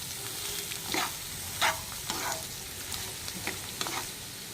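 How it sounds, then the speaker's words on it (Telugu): Grated beetroot sizzles and fries in a pan as a spatula stirs it, producing a steady crackling hiss with soft scraping strokes repeating every half second or so, close and without talk. "ఈ విధంగా బీట్రూట్ యాడ్ చేసిన తర్వాత ఒకసారి అయితే మిక్స్ చేద్దామండి మొత్తం"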